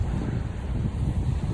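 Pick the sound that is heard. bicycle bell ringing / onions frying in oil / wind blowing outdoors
wind blowing outdoors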